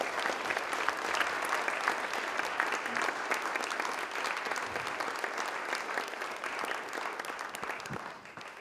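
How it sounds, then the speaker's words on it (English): A banquet audience gives the rabbi a sustained round of applause, dense steady clapping from many hands that carries on evenly for several seconds before slowly tapering off. "Please, a round of applause to our rabbi."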